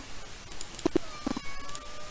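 A cat meows twice in quick succession, short and fairly close, with a faint hum in the background.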